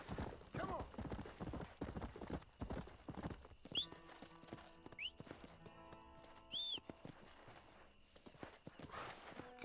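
Hooves of a horse named Shadow clip-clop in Red Dead Redemption, a quick rhythmic trot up close at first, then fading to sparse steps among chiming game sounds, with a brief whinny; quiet overall, no talking.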